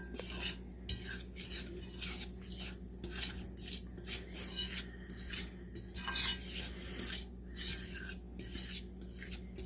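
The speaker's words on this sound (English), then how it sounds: "And we'll go ahead and mix that in before we add our brown sugar." A utensil stirs sugar substitute into cookie batter in a bowl, scraping and clinking against the sides in a steady repeated rhythm. The sound is close and moderately quiet, with no talking.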